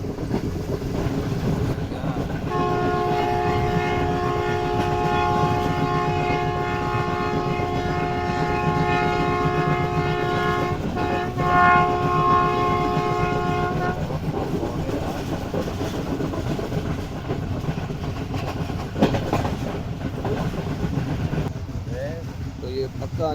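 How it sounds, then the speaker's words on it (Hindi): Horn of the Karakoram Express blaring in one long continuous whistle as the train cuts through heavy Punjab fog, loud over the rumble of the moving coach, then cutting off and leaving rolling rail noise. "कंटिन्यूस विस्लिंग चल रही है ड्राइवर साहब की तरफ से"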